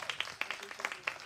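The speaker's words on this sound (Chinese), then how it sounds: "为我们掌声鼓励" A small audience at a live Puyuma indigenous song release event at a music venue claps briefly, giving a quick run of close, uneven hand claps with no talk over them.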